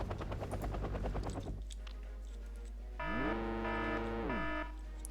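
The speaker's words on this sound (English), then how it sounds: "Couple of choppers coming in," Two Mi-4AV helicopter gunships with rocket pods approach in the Wargame Red Dragon strategy game, a loud rising rotor-and-engine sweep that swells and holds for about two seconds after a burst of gunfire-like effects, with no talk.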